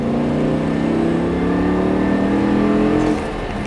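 Car accelerating hard on a race circuit during a track ride, engine pitch climbing steadily and loud from the cabin, then easing off sharply near the end as the driver lifts.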